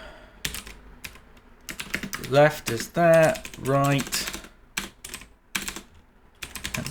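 Keys tapped on a computer keyboard in a burst of irregular clicks, close and moderately loud, interleaved with a man's speech and short pauses.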